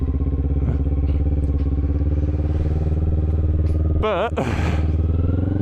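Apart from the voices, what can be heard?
motorcycle slowing down through the gears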